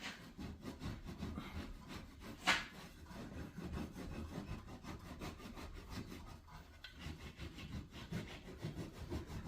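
Elk or deer hide rubbed hard over a board during tanning, a continuous quiet scraping and rubbing with a steady back-and-forth texture and one brief sharper scrape near the start.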